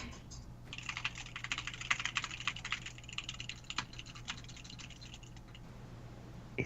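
In the game Guns the Duel, moving the camera sets off a clicky, rapid patter much like fast keyboard typing, uneven bursts of small ticks that last several seconds over a low steady hum.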